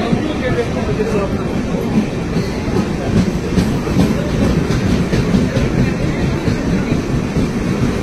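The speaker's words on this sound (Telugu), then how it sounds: "మన ట్రైన్ అయితే వచ్చింది" The Ernakulam Superfast Express rolls into a station with a continuous heavy rumble and rhythmic clickety-clack of wheels, while a crowd murmurs faintly underneath.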